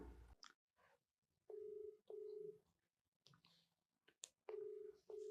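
A phone ringback tone sounds in short, evenly spaced double pulses on an outgoing call, clear and steady between brief gaps, with some faint handling noise.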